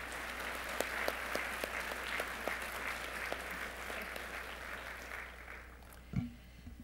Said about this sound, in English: Could we give Linda a round of applause in appreciation for their support?